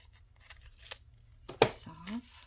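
Scissors cutting paper for an envelope, a few faint snips followed by one sharper, louder cut near the end, with a voice speaking briefly alongside.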